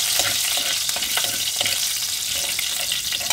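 Whole cinnamon, cloves and small cardamom fry in hot oil for a bottle gourd and prawn curry, giving a steady, close, loud sizzle with small crackles and occasional stirring scrapes and no voices.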